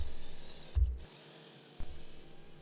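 Low, rhythmic grinding of a drill boring and tapping screw holes for a Benchcrafted Glide leg vise on a Roubo workbench, pausing briefly in the middle before resuming; close and moderately loud, with no talking.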